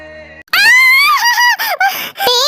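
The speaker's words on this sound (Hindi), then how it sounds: "तुम चिल्लाई क्यों?" A woman wakes from a dream and lets out a loud, drawn-out high scream that wavers and breaks into several sharp bursts over a couple of seconds, following a faint sustained tone.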